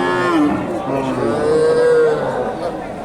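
A Friesian cow with its calf moos loudly and close at a Bogura cattle market, one long drawn-out bellow with a rising then sustained tone, faint crowd murmur behind it.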